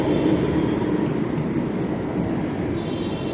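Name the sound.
metro train departing at IFFCO Chowk, Gurgaon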